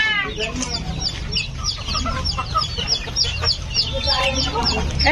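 Native chickens cluck and chatter continuously at a rural house yard, including fighting cocks, with repeated near clucks over steady background noise and occasional voices.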